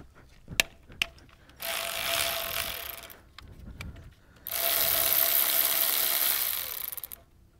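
A socket ratchet works on 13 mm bolts on a GM 6.5L diesel Stanadyne injection pump, with a few sharp clicks followed by two longer bursts of fast ratcheting, nearby and clear with no speech.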